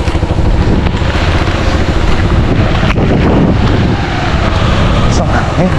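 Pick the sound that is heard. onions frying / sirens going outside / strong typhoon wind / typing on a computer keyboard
strong typhoon wind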